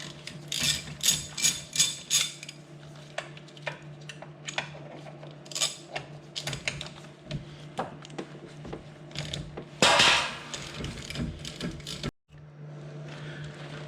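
Ratcheting hex driver loosening the brake caliper bolts on a Lamborghini Gallardo, a quick burst of close ratchet clicks at the start followed by scattered sharper clicks and metallic clanks against a steady low hum.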